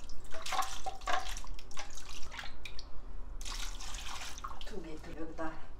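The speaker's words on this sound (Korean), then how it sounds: "물이." Water is poured and splashes into a container while making napak water kimchi with baechu cabbage, in short uneven bursts with drips, as someone talks in the kitchen.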